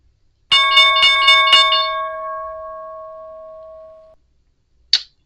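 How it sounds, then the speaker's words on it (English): Stock market closing bell rings in a quick series of bright metallic strikes, then a long sustained ring slowly fades out, followed by a brief short click. "That's the sound of the closing bell."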